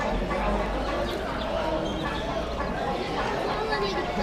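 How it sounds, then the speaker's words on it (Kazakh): Dense chirping and cheeping from many small birds at a busy market, with people talking nearby throughout. "Мына балапандар"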